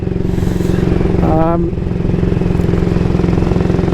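A 1938 AJS Model 22 250cc single-cylinder motorcycle engine runs at a steady, even idle close by, with someone talking over the rhythmic thumping.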